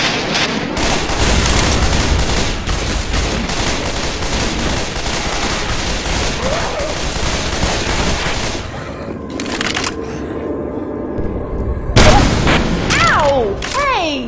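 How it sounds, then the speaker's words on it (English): Grenade launcher and other weapons fire in the zombie shooter Left 4 Dead, with loud rapid gunfire and booming blasts packed through the first part, then scattered shots and a sharp blast near the end. "Grenade launcher!"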